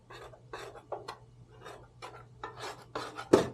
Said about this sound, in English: I'm just going to give it a quick scrape.